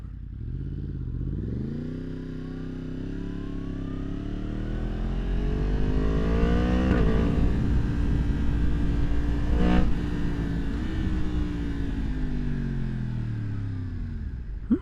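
A 2023 Yamaha MT-10 motorcycle with an open exhaust, no catalytic converter and the AIS deleted revs its engine, a loud, close, continuous growl that swells and falls with throttle blips. No talking is heard.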